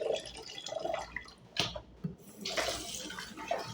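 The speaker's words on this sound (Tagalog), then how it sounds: "Hugasan ko siya ng ilang beses para malinis." Water runs from a tap over lentils (adas) being rinsed by hand in a sink, with close splashing and dripping that swells and eases in uneven bursts.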